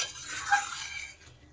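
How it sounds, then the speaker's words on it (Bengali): Fish curry gravy in a pot being stirred, a soft scraping swirl with a faint metallic clink from the utensil, close and quiet, with light bubbling underneath. "এখন ঝোলটা একটু ভালো করে নেড়ে দেব।"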